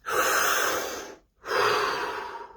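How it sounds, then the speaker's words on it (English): Two long, close breaths in a guided relaxation session: a full airy inhale, a short pause, then a drawn-out exhale that gradually fades. "Take a deep breath."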